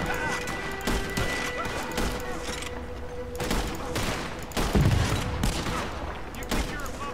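Gunshots in Red Dead Online, rapid volleys of sharp cracks and a few louder impacts firing in irregular bursts, close and loud, with game ambience and someone speaking in Turkish between shots.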